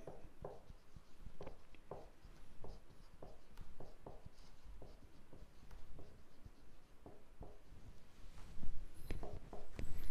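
A pen writes out a maths solution on paper in steady, soft scratching strokes with small pauses between words, quiet and close-up, with no talking.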